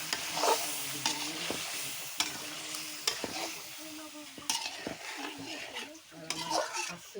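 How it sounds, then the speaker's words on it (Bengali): Fish being sautéed in a pan over a clay cooking stove, with a spoon stirring and scraping against the pan in an irregular rhythm over a low sizzle, close by and fairly soft. "মাছটা কষাবো দিয়ে দিলাম"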